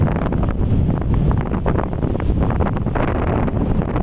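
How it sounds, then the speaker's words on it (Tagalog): Strong, steady sea wind buffets the microphone on a coastal road in Lobo, Batangas, a constant roaring rumble throughout with faint wave wash beneath, no voices. "Ang sarap ng hangin. Napakalakas."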